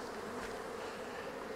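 A dense, steady buzz of many honey bees fills the air around a hive during honey harvesting, droning continuously at close range.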